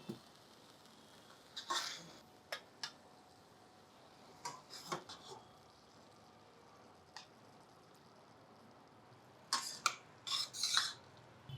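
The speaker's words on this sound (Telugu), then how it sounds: "కూర వేరే బౌల్లోకి తీసేసుకుందాం" Eggplant and fenugreek-leaf curry is scooped from the pan into another bowl, giving faint, sparse scrapes and clinks of a spoon against metal in a quiet room, with a louder cluster of scraping near the end.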